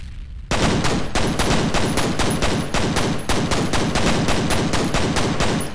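Sustained automatic gunfire in the F.E.A.R. shooter, a loud, dense stream of rapid shots firing almost without pause for several seconds after a brief quiet start.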